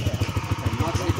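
A brand-new CNG motorcycle idles close by in a village near Alibag, its engine thumping out a steady low, quick putter while people talk over it.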